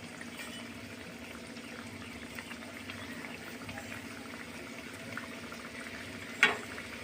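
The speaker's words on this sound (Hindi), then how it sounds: "घी हमारा हल्का गरम है और हम 2 गुजिया को डाल दिए हैं।" Two gujiya, filled with jaggery and dry ginger, fry slowly in lightly warmed ghee over a low flame, giving a soft, steady bubbling sizzle throughout with one brief clack near the end.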